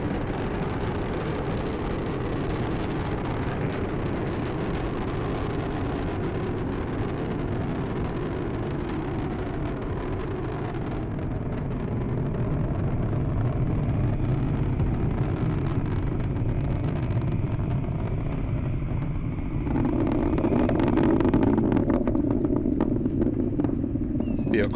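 SpaceX rocket engines roar continuously through a capsule launch bound for the space station, a dense, steady rumble that swells louder near the end, with radio voices calling out over it.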